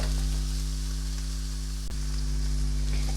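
Garlic and onion frying in a pan for chicken vegetable chow mein, a steady close sizzle with a constant low hum underneath and one sharp click partway through.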